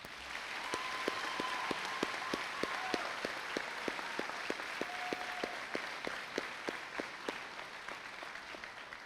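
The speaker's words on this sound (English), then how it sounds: "Please, everyone, give them your round of applause." Audience applause for a graduating class of seniors at a 2024 high school graduation ceremony, a broad wash of clapping with distinct louder claps at a steady pace, moderately distant, with a few faint whistles.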